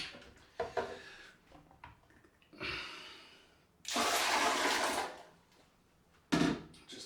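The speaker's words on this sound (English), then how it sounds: "What I will do though is I'm going to empty this bowl out." Shaving bowl being emptied out after a head shave, with a splashing pour of water that rises and holds for about a second, followed by a brief second splash; close and fairly quiet, no talking.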